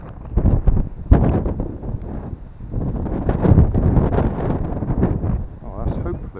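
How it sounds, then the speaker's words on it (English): Strong wind buffeting the microphone outdoors while a cardboard stunt glider is flown, with rough gusty rumbles that rise and fall and someone talking over them. "A bit too windy though, I think."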